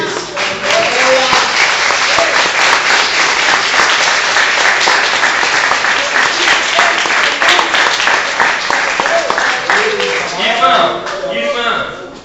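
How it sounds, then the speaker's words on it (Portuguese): A church congregation applauds steadily during an evening service, a dense wash of clapping that holds for several seconds before thinning out as a preacher's voice returns. "Você pode aplaudir ao Senhor por isso?"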